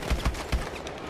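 Gunfire in the shooter game Call of Duty: Advanced Warfare, three quick heavy low booms close together, then a fading tail over a steady noisy game background.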